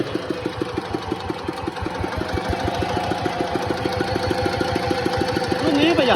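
A Yanmar engine with a radiator fan idles close by, giving a loud, steady, evenly spaced knocking chug that continues for about six seconds and grows slightly louder toward the end.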